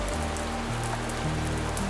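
Steady rain patters on a surface in a continuous hiss, with soft droplet ticks and a low sustained musical drone underneath, with no voices.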